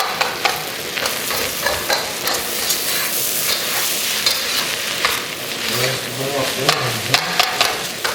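Fried rice being stirred in a hot pan, giving steady scraping and sizzling throughout with faint background voice activity.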